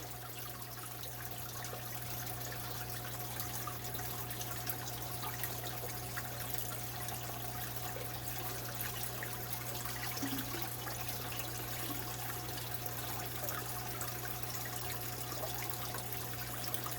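Water pours steadily into an aquarium during a water change, a continuous soft trickle that runs unbroken for the whole stretch over a constant low electrical hum, with no voices.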